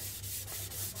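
Close, rhythmic scrubbing as a Sabitoru rust eraser is rubbed over a sharpening stone to clear embedded steel, a handful of rapid gritty back-and-forth strokes with no voices.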